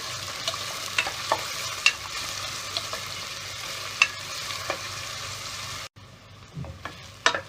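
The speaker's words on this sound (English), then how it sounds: "Once the oil is hot, I'm going to add onions. Fry this for about a minute." Onions fry in hot oil in a pan for a beef pepper masala, a steady close sizzle with occasional stirring clicks and scrapes, briefly dropping quieter near the end before the crackle resumes.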